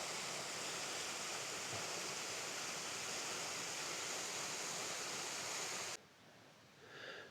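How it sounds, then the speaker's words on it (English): Obsidian Falls, a waterfall in a volcanic-glass lava landscape along the Pacific Crest Trail, pours as a steady, loud broadband rush that cuts off abruptly near the end, leaving faint ambience. "Extremely pretty waterfall."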